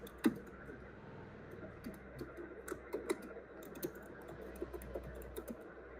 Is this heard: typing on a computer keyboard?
yes